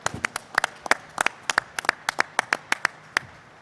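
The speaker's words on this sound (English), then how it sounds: "Just give them a big round of applause for what they've done and what they're doing." Applause from a small group at a New York governor's coronavirus press briefing, heard as sparse, distinct individual hand claps with an uneven rhythm, fairly close and crisp, with no talking over them.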